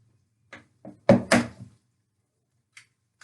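Eggs with hard shells are cracked against a bowl for a brownie batter, giving a few sharp, close knocks and taps in a quick cluster, then a faint tap later in an otherwise quiet kitchen.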